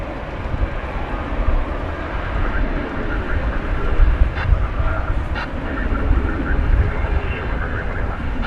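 A plane taxis fast at DFW Airport at night, making a continuous broadband engine rumble that swells and eases slightly at a middle distance.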